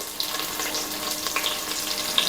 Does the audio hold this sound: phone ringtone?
no